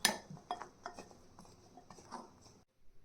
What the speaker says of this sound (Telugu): వంకాయ ముక్కలు కూడా వేసుకుని కలిపేసుకుందాం